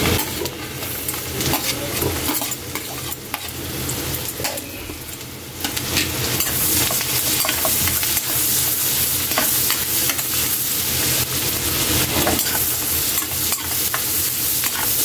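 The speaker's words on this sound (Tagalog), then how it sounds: "Kaylee, lagay na natin yung sibuyas natin." Onions sautéing and sizzling in a pan for ginataang tuna belly, a steady loud frying hiss with stirring scrapes and light utensil clinks throughout, no voices.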